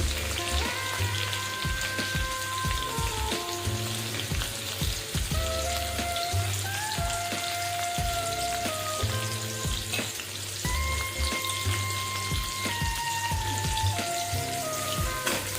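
Garlic and green chili sautéing in a pan for a cabbage bhaji, a steady, close sizzle running throughout with light stirring clicks, while music plays over it.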